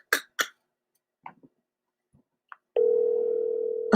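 A telephone call is placed: a few scattered clicks and taps as the number is entered, then a steady, loud ringing tone that continues to the end.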